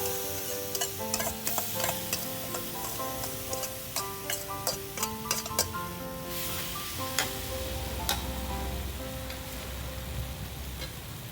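Marinated pork leg sizzles and fries steadily in a hot pan, with crackling pops and occasional stirring scrapes throughout, close and fairly loud with no voices.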